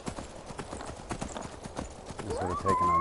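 Horse hooves clip-clop in a steady rhythm as a horse is ridden in the video game Skyrim, continuing throughout, with a whinny rising near the end.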